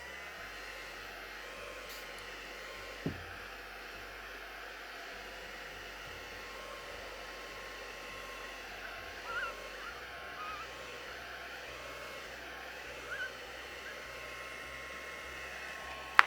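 A craft heat tool hums softly and steadily while heat-setting still-wet paint on a backing card, a faint, even airy drone with a few small clicks, and no one speaks.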